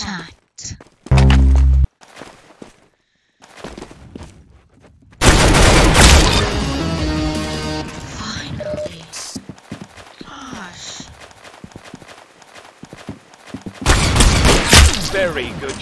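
Gunfire in the Roblox shooter Arsenal: a sharp, loud burst early, then a long dense volley of rapid shots, and another heavy burst near the end, with voices talking over parts of it.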